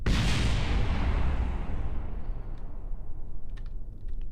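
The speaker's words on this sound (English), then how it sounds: "Something exploded." Explosion in the space game Kerbal Space Program: a loud, broad blast that starts at full strength and then fades over a few seconds, with faint clicks near the end.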